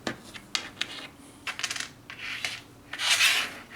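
Copper pennies and zinc coins dropping and clinking together in a handful, several sharp close metallic chinks spread irregularly, ending in a longer rattling cascade; no talking.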